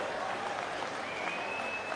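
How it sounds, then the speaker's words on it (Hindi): A crowd at a Congress party political rally claps to welcome the party's national president, a continuous rattle of many hands heard somewhat distant and moderately quiet, with a faint tonal whine running underneath. "राष्ट्रीय अध्यक्ष खड़गे जी आए, उनके लिए जोरदार तालियों से उनका स्वागत करें एक साथ मिलकर।"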